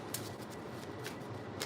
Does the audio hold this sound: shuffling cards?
yes